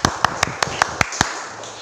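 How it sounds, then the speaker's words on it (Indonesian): Seven sharp, evenly spaced claps ring out for a student group's class presentation, each a crisp broadband hit with a short decay, sparse and near in a classroom. "Kita berikan aplaus dulu"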